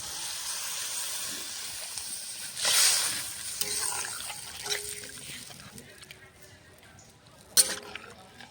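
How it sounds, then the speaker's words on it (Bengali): Water splashes into a pan of spiced potatoes, tomatoes and flat beans for a Bengali rohu fish curry, setting off a brief loud hissing burst, then quieter simmering sizzle with a few sharp clinks and another short hiss near the end. "এখন জল দিয়ে দেবো"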